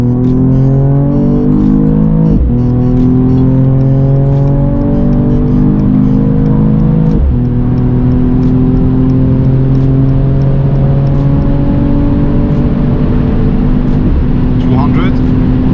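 Mercedes E53 convertible, a 2021 model, with its engine pulling loud and steady as the car accelerates on the road, pitch climbing through each gear and dropping sharply at the shifts, close and continuous.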